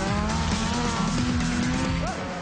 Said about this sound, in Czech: Je to drag kart, stojí 12 500 liber.